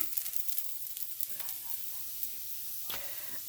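Rice browns in a few tablespoons of oil in a pan, a soft, faint sizzle with light scraping and clicks as it is stirred.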